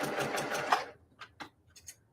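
A quilting sewing machine stitches quilt block binding seams with a steady close mechanical whir that stops after about a second, followed by a few short, separate clicks and taps.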